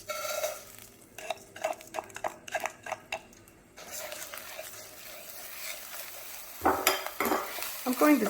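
Dry rice for Mexican rice toasts over medium-low heat in a pan, with a spoon scraping and clinking in quick rhythmic strokes, then a soft steady sizzle and a few more close stirring scrapes, without speech.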